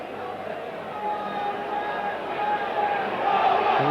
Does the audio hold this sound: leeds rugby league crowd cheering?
yes